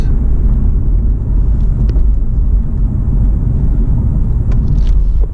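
A BMW 650i Gran Coupe with a turbocharged engine pulls hard, giving a loud, deep, steady rumble heard from inside the car with no talk over it.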